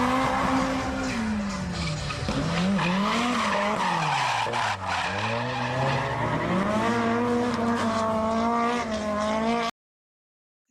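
Drift cars, one of them a Nissan 180SX, battle at Calder Park raceway with loud, continuous tire squeal and screeching skids over wailing engines whose pitch swoops up and down, close and sustained before cutting abruptly to silence.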